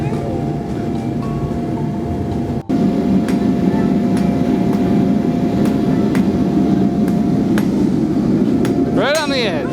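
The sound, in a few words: blacksmith hammering hot metal on an anvil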